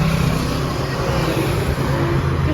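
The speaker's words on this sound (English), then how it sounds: "as you can hear, the traffic comes from behind you" Road traffic passes from behind on a narrow roadside path near Gardaland in Italy, a loud, continuous rushing car roar that swells and holds throughout.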